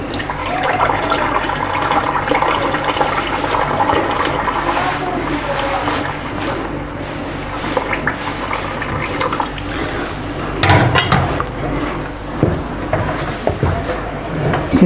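Lentil cooking water pours into a pot of beef haleem with a continuous splashing, gurgling rush. It sounds close and steady, with a few louder splashes near the end.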